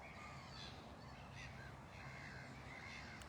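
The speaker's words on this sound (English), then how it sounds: "Listen to the shrieks of the birds." Crows caw faintly by a loch during a quiet walk, a few distant harsh calls over a low, steady ambient rumble.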